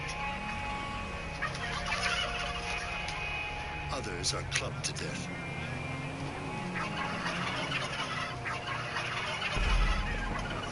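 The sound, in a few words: turkeys gobbling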